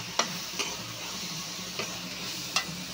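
Onions frying in a pan for a ridge gourd dish, a low steady sizzle with a few sharp utensil scrapes and clinks spaced across it, no talking.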